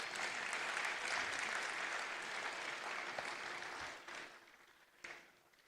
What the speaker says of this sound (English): Ladies and gentlemen, please acknowledge Professor Wayne Dunn with a round of applause